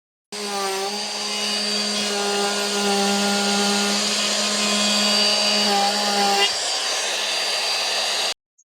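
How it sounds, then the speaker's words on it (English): A Bosch GKF 12V-8 cordless trim router mills wood with a loud, steady high-pitched whine that holds for about eight seconds, its pitch shifting slightly as it cuts before the motor cuts out abruptly. "Here's a milling operation without any difficulty."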